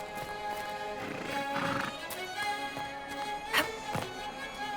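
A horse in the video game Dragon Age Inquisition whinnies with a rising, shrill neigh over steady background music, followed by a few hoof-like clops.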